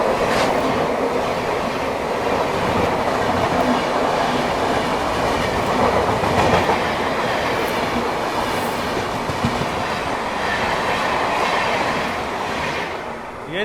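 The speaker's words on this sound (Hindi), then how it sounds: "ये थी दोस्तों नई दिल्ली भुवनेश्वर दुरंतो एक्सप्रेस।" The New Delhi–Bhubaneswar Duronto Express passes on an adjacent track, a loud, steady roar of wheels and carriages with rhythmic clickety-clack running throughout and easing slightly at the end.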